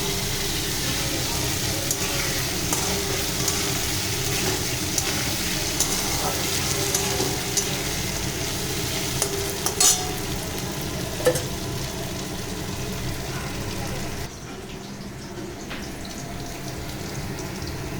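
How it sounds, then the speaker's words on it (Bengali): Potatoes fry and are stirred in a pan for a Bengali fish curry, a steady close sizzle with scraping stir strokes and small clinks throughout, easing slightly near the end. "এই আলুগুলো লাল লাল করে ভাজা হয়ে গেল আমার।"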